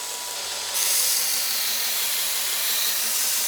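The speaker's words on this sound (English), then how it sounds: "we're going to start by placing the axe on there and start to grind this backside the bevel" A belt grinder grinding the bevel of an axe, a steady bright hissing rasp that jumps louder as the steel meets the belt and then holds a constant, close, continuous tone with no talk.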